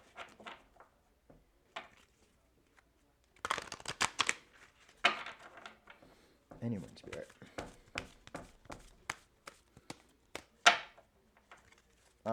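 Close, crisp tarot card shuffling in short bursts of rapid flicks and taps, with a person speaking briefly between the bursts.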